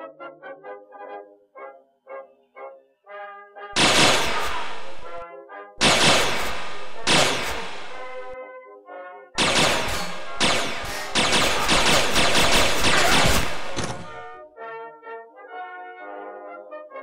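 Sci-fi phaser weapons in a Star Trek fan production fire in several loud bursts of harsh crackling blasts, separated by gaps where a tonal musical score plays quietly alone.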